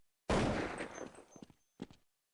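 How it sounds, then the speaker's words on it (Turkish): A flashbang grenade goes off in Counter-Strike 1.6: one sudden loud blast that decays into a ringing tail, followed by a few softer game thuds. "Gördüğünüz gibi flash burada patlıyor"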